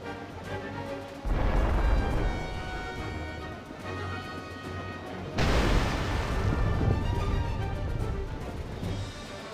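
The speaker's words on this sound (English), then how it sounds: "Enemy cannons!" Deep booming cannon blasts hit twice, heavy and loud, over a continuous rumbling battle din in the game Final Fantasy Brave Exvius: War of the Visions.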